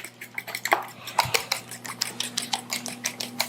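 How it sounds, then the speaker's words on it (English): Eggs are scrambled in a bowl with quick, rhythmic clinking taps of a utensil against the bowl's sides, close and fairly crisp, with no talking. "I'm going to give this a good scramble. Get the yolks, the whites emulsified."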